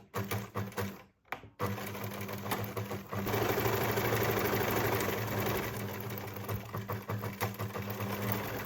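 A sewing machine stitches back and forth across a seam on a top, a loud continuous mechanical whir that cuts out briefly near the start and then resumes steadily.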